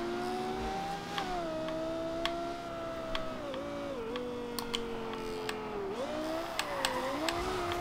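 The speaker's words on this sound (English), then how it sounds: "downshift into second gear and mash the throttle coming around that corner" Lexus LFA 2010 V10 in Forza Horizon 2 holding a steady high wail, dipping and rising as it downshifts and revs through corners, with faint clicks over the continuous engine note.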